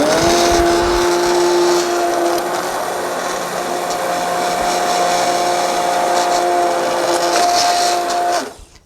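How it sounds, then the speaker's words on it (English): A hand blender blending asparagus soup whirs continuously at a steady high pitch, loud and close, then cuts off abruptly near the end. "and then I'll blend it a little bit more"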